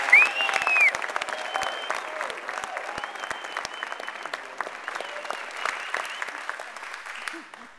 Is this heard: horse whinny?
no